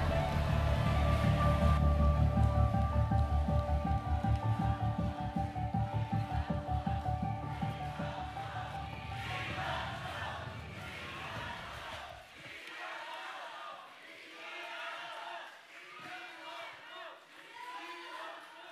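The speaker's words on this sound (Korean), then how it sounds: "큰 박수 부탁드립니다" A crowd of party members at a Democratic Party convention in Daejeon applauds and cheers loudly as a candidate is introduced, with music under it, then settles into quieter crowd noise and shouts.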